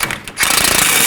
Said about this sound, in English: I'm going to snug these down using 21mm on both sides, a wrench on the bolt side, and my impact gun on the nut side